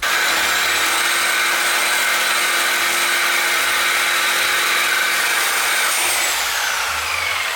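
A power tool cuts a notch in metal during a Sur Ron electric dirt bike brake and belt upgrade, a steady loud high-pitched whine grinding continuously for several seconds before easing slightly near the end, with no talking.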